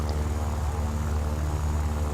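A propeller fighter plane engine, a Yak-9 in War Thunder, roars in a steady, dense drone with a low throbbing tone, loud and continuous throughout, with no talking.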